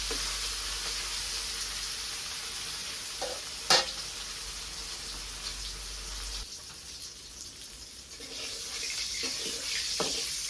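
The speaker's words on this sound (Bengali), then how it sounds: "কড়াই তাপেছে মাছ দিয়ে দিই" Fish fries in a hot kadhai in a village kitchen, a steady moderate sizzle with a few sharp spits and clatters, and faint background noise.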